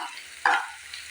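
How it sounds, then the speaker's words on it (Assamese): Ginger-garlic paste fries with onions in a pan for a raw jackfruit curry: a soft steady sizzle with one brief louder burst of scraping or spluttering midway. "এইখিনিও মই ভালদৰে পিঁয়াজৰ লগত ভাজি ল'ম"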